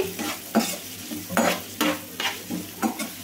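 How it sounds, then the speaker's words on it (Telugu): Chopped onions fry in a pan, a low sizzle broken by about six rhythmic scraping stirs from a spatula, close and clear with no talking. "కొంచెం కలర్ చేంజ్ అయ్యేదాకైతే వేయించుకుందామండి"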